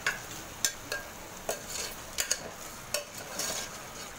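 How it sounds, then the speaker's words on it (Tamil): Mutton stirred with salt in a cooking pot for pepper mutton curry, giving scattered light scraping and clinking strokes at an irregular rhythm, with no voices. "நல்லா இதுலயே கிண்டிக்கணும்."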